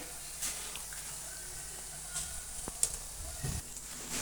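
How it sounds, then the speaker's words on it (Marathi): Onion bhaji deep-frying in fully heated oil, a soft continuous sizzle and hiss with a few clinks and scrapes as a slotted spoon turns the fritters. "तेल पूर्ण गरम झालेले हे पहा आपले भजे कसे तळायलेत"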